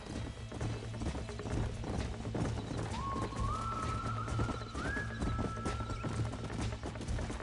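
Horse hooves clip-clop at a steady walking rhythm in Red Dead Redemption, close and continuous, with a horse's whinny rising partway through over a low game ambience.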